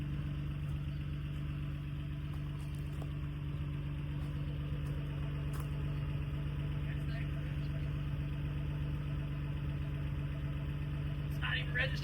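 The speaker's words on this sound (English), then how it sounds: "Way louder. It's way louder. You can hear the turbo now too." A straight-piped Nissan R34 GTR V-Spec idles loud and steady, a deep continuous drone with a constant low hum running the whole time, faint turbo whistle above and brief small clicks near the end.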